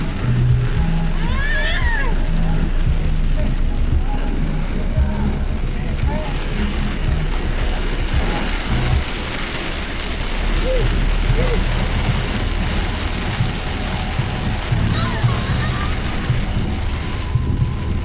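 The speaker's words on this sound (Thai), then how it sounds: "ฝนตก" Heavy rain falls steadily in Wang Saphung district, Loei, Thailand, a loud continuous wash of hissing and pattering that never lets up, with occasional louder splashes on nearby surfaces.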